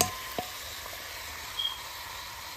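Beef going into a pan of sautéing onion and garlic for beef kaldereta, a soft steady sizzle with a couple of brief clatters and stirring sounds.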